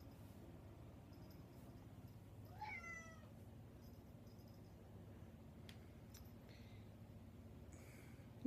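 A single close cat meow rises and falls once, fairly clear against a quiet indoor hum, with a few faint clicks afterward and no talking.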